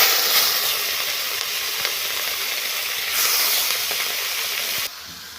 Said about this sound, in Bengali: আমার কড়াইতে তেল দেওয়া হয়ে গেছে। এবার আমি মাছগুলো দিয়ে দেবো।